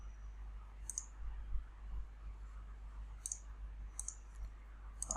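Computer mouse clicks, four short crisp clicks spaced irregularly over a quiet low hum, close and fairly faint, with no talking.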